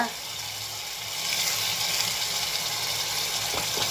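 Bay leaf and spices sautéing in plenty of hot oil in a pan, giving a continuous dense hiss of sizzling that swells slightly after the first second and holds steady, close, with a couple of faint clicks near the end.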